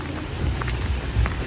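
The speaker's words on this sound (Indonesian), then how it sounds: "Hujan." Steady rain falls outdoors at a farm in Bengkulu Tengah, a continuous close patter with a few heavier drops standing out, heard alone without talk.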